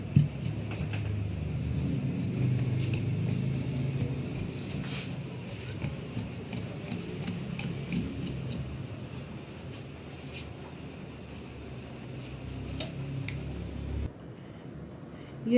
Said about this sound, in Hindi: ये पीस काट लें ऐसे 30 इंच के दो पीस काट लें